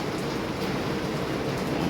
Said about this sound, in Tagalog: Lakas ulan dito eh.